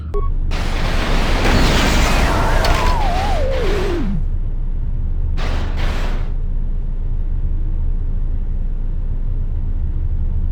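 An ion grenade goes off in the Star Wars KOTOR 2 video game: a loud burst with a descending electric sweep over heavy rumble, followed by a brief second crackle, then steady low drone.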